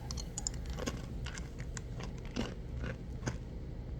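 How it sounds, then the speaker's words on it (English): Honey roasted peanut M&Ms are chewed up close, giving a run of irregular crunchy bites and clicks that repeat through the few seconds with no talking. "Okay, I'm done chewing now."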